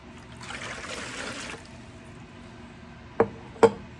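Water is poured into a mixing bowl for bread dough, giving a soft, steady trickling stream for about a second and a half, followed by two short, sharp knocks.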